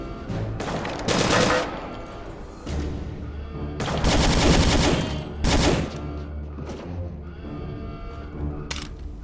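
Loud machine gun bursts from a mounted gun in Return to Castle Wolfenstein, a World War II shooter set in a castle. Several long rattling volleys of gunfire come up close, with echoing gaps between them and one short sharp crack near the end.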